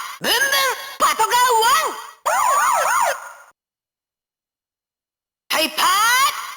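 A BoonBoom Changer toy plays an electronic police car siren in warbling, rising and falling bursts, loud and close, broken by a short silence before the siren returns.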